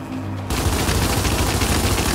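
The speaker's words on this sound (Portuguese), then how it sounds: "Agora vamos tentar atirar sem mirar para acabar com eles enquanto fica protegido." Sustained burst of rapid gunfire from blind-firing out of cover in the video game Gears 5, loud and continuous after a brief quieter lead-in, with no talking.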